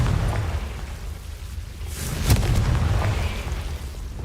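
A Confringo blasting spell goes off in Hogwarts Legacy: one loud burst and boom partway through, set against a rumbling low background.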